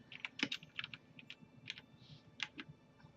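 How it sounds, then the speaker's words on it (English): Light, sensitive keys tapped on a computer keyboard in irregular quick bursts, close and quiet, with brief pauses between clusters of keystrokes. "I'm still getting used to typing on my keyboard"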